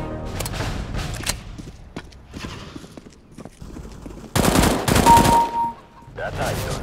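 Gunfire from a Counter-Strike: Global Offensive deathmatch against bots: loud bursts of shots, densest in a heavy volley near the end, with quieter scattered shots before, under occasional talk.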